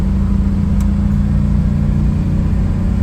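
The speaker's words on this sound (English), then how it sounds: "We'll get it up to speed here on the road. It shifts nicely through the gears, as you can see, and builds RPM and speed nicely." A 1964 Mercedes-Benz 220 SEb engine drones steadily on the road, a continuous mid-pitched hum with low rumble held at an even, close level throughout, with no distinct gear change standing out.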